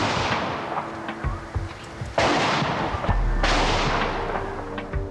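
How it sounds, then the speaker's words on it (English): A volley of police gunfire rings out as several sharp, loud reports, with two heavy blasts standing out, each trailing off into a rumbling echo. "Chief Inspector Clarkson gave the order to open fire"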